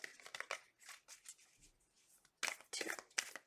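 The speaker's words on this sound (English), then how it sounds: "Two more shuffles, Spirit." Tarot cards being shuffled by hand, a string of quick papery riffles and rustles in uneven bursts, close and fairly quiet, with short pauses between.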